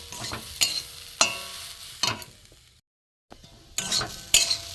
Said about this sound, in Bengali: সুজি দিয়ে দিলাম, সুজিটাও একটু এর সাথে ভেজে নেবো।